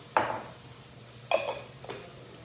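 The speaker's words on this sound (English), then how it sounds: "So I'm gonna go ahead and spoon this into my pan and just sort of warm it up" Romesco sauce is spooned into a pan to warm, giving three close metallic clinks of spoon against pan, the first two sharper and the last softer, spaced about a second apart.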